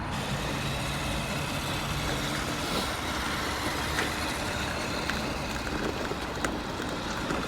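A large RC crawler, an Axial SCX6 carrying 4S batteries, crawls along in low gear, its motor whining steadily and continuously at a close, even level with no speech.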